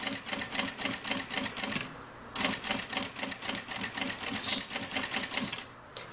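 An industrial straight-stitch sewing machine sews bias binding at a slow, rhythmic pace, its rapid needle clatter running in bursts with a short pause midway and another near the end, close and clear without speech.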